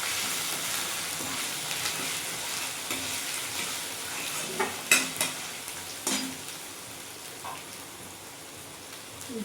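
Ginger-chili paste frying in a pan and being stirred for a vegetarian masala paneer: a steady, close sizzle with a few sharp spoon scrapes and clacks partway through, no talking.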